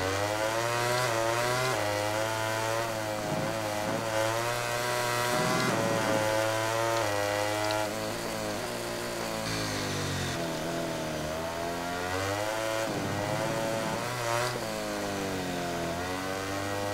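Racing motorcycle engines in a MotoGP 2019 game roar steadily and loudly throughout, their pitch rising and falling with each gear change and acceleration. The engines sound close and continuous, with no talk.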